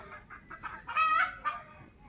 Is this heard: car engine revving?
no